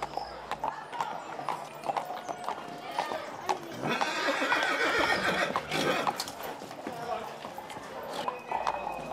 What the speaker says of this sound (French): Les chevaux se mettent en route pour un long défilé à travers la ville.